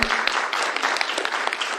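A crowd claps steadily and loudly for a folk ensemble from Grzegorzew with its band from the Wielkopolska region, a dense continuous patter of many hands.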